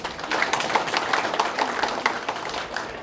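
An audience at a Haenam County residents' town-hall gathering applauds a visiting journalist, a moderate, steady spatter of many hands clapping in a room, fairly even for about three seconds with no talk over it.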